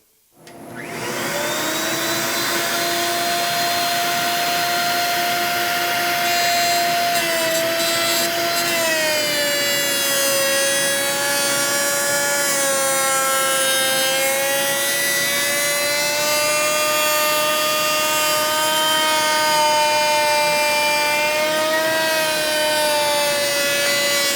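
A wood router cuts wood with a freehand guard fitted, a loud steady high-pitched whine with strong harmonics that dips slightly in pitch under load and runs continuously without talk.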